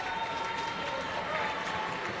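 Crowd noise from spectators at a junior air pistol shooting final, a murmuring, clapping reaction that stays steady throughout, with a commentator talking over it.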